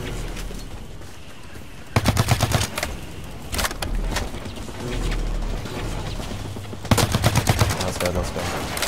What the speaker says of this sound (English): Oh my god, he's shooting behind wall.